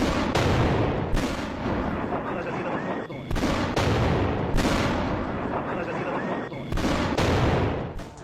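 Bombs strike Hezbollah sites in Lebanon in loud, repeated blasts, each sharp boom followed by a long rumbling roar, with several hits in quick succession.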